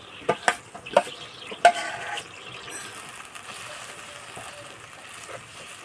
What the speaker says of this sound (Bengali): এবার আমি যে চাল আর ডাল বেটে রেখেছি সেই বাটাটা দিয়ে দেব।